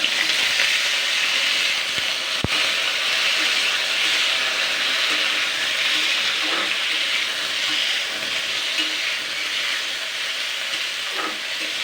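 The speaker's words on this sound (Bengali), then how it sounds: "ঝিঙেগুলো কিন্তু বেশিক্ষণ ভাজা যাবে না।" Ridge gourd pieces frying in oil make a continuous loud hiss and crackle that stays steady throughout, with one sharp click early on and occasional faint scraping.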